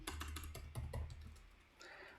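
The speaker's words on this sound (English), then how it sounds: "we just need to type in Heroku" Quick keystrokes clatter on a computer keyboard while typing a command, a burst of close, crisp clicks that slows into a few scattered taps before fading into quiet room tone.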